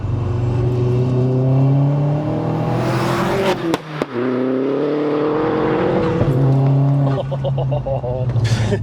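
A modified, self-built 310 BHP Vauxhall Astra VXR with an aftermarket exhaust, its engine droning and revving up and down from inside the car, with a sharp dip and surge midway as people chat over it.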